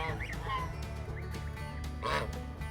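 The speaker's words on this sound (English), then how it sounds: "The geese want some too." Geese and ducks honk and quack at a farm during morning feeding with grain, a dense, continuous flock clamor close by with a louder burst near the end, a voice speaking in the background.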